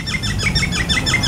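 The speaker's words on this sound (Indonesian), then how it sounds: "Ada suara burung." Birds chirp steadily beside a calm lake at Taman Tasik Taiping in Perak, Malaysia, their repeated bright tweets riding over a low ambient rumble.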